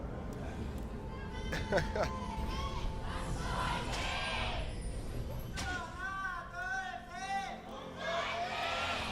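A large indoor esports arena crowd at a League of Legends match roars and cheers continuously, with shouts and whistles rising above the din, while voices talk over it.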